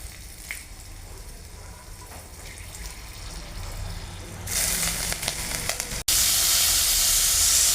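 Chopped ginger and green chilli fry in a spice tempering of dried red chilli, cardamom, cinnamon and cloves, cooked on a clay stove. A steady, close sizzle swells louder midway, then surges into a fierce crackle after a brief dip.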